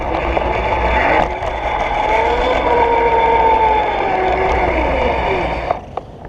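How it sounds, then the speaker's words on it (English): A GoPed I-Ped 2 electric scooter rides along steadily with a continuous whining drive tone and chain noise, over wind and road rumble, loud and close, then tapering off near the end. "You'll be able to hear the chain and see the speed."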